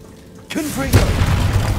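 A Confringo blasting curse explodes in Hogwarts Legacy: a sudden, loud boom with a rumbling tail that carries on for over a second, with a voice sounding around it.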